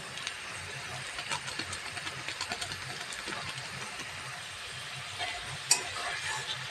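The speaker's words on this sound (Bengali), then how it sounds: "ভালো করে মিশিয়ে নিচ্ছি।" A spoon stirs taki fish curry as garam masala powder and chopped coriander leaves are mixed in, with soft scraping and faint sizzling under a steady hiss, ending in one sharp clink.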